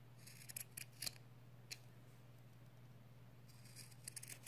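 Scissors snip through fabric wipes in a series of sharp, close cuts, some in quick pairs and others spaced out, over a steady low hum with no talking.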